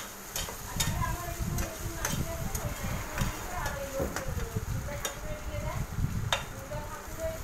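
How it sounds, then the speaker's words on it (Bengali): Snake gourd frying in a wok with onion, nigella seeds and green chilli, a soft sizzle with scraping stirs and sharp clicks of a spatula, fairly quiet with faint voices in the background. "এখানে চিচিঙ্গা ভাজা হচ্ছে।"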